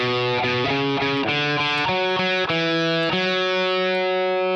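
A distorted electric guitar plays the pre-chorus of a song slowly: a string of crunchy, evenly spaced notes that ends on a longer ringing note, loud and close.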